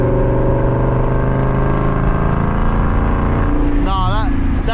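Deep, steady exhaust drone from a Ford S550 Mustang GT 5.0 with an aftermarket exhaust in fourth gear, loud and continuous from inside the car, with a voice talking over it near the end.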